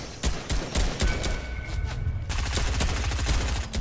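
Gunfire in Fortnite crackles in rapid bursts of sharp shots that pause briefly, then return as a steady, continuous volley.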